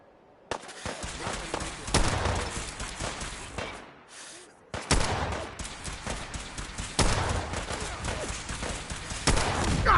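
Gunfire in Fallout 4: sharp shots and rapid volleys burst out repeatedly, loud and close, with a short quiet gap midway before heavy firing resumes through to the end.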